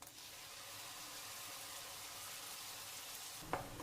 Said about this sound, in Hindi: जब तक भूनेंगे जब तक कि इसका तेल और टमाटर अलग अलग ना हो जाएं